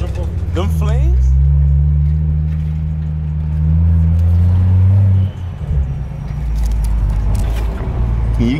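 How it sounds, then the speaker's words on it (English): A BMW 435i engine revs loudly up close, climbing and holding a deep droning pitch before dropping off abruptly, then idling roughly while people talk nearby. "Yo, give me some revs, Nelson."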